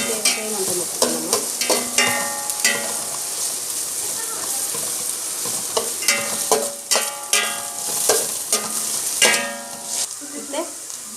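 Battered cauliflower for gobi manchurian fries in hot oil with a steady, loud sizzle, broken by repeated scraping and clattering stirs from a utensil in the pan.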